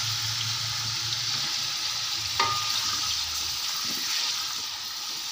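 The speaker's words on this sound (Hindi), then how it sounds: "थोड़े से इसको फ्राई करेंगे तेज़ आग पे" Potatoes and green chilies fry in a pan over high heat. A continuous, close hiss of sizzling oil carries on throughout, with a faint stir or clink partway through.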